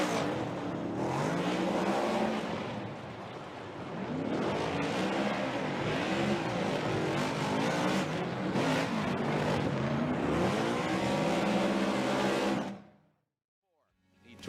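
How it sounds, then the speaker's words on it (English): A Ford Performance Mustang RTR Spec 5D drift car on BC Racing suspension and Ditto tires roars through a Formula Drift battle run, its engine rising and falling loudly under crowd noise and commentary before cutting to near silence. "Listen to the BC Racing Ditto Tire Ford Performance Mustang RTR Spec 5D of Chelsea DENOFA."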